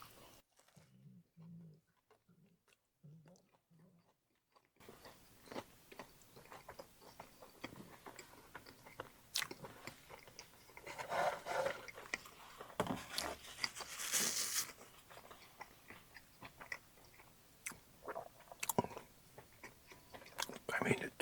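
Bites into a McDonald's McVeggie burger followed by soft, close chewing and crinkling of the wrapper, quiet and intimate, with some whispered talk over it.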